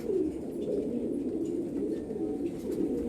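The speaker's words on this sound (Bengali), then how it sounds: "দেখুন বন্ধুরা এটা পাঁচ নম্বর ফিমেল" A steady chorus of golden ice pigeons cooing, low rolling warbles overlapping without pause, close and full.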